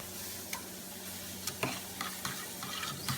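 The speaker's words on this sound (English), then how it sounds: "Now we just take the peppers, the diced peppers, put them in the egg mixture." Diced peppers are stirred into a thick egg mixture for an egg bake casserole, with a handful of soft scraping and tapping strokes over a quiet background and no talking.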